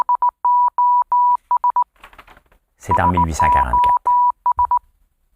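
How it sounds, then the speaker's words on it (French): Morse code telegraph signal sounding as steady beeping tone pulses in short and long groups, breaking off while someone speaks in French, then resuming with more dots and dashes after his line. "ce que vous entendez, c'est le code Morse"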